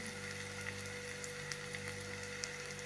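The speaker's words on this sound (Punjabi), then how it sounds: "ਲਸਣ ਪਿਆਜ਼ ਜੀ ਆਪਣੇ ਬਰਾਉਨ ਹੋ ਚੁੱਕੇ ਹਨ ਆਪਾਂ ਇਹਦੇ ਵਿੱਚ ਪਾ ਰਹੇ ਹਾਂ ਜੀ ਮਸਾਲੇ" Browned garlic and onion fry steadily in a pan with spices stirred in for a paneer and bottle gourd curry, giving a continuous close sizzle with small pops and no talking.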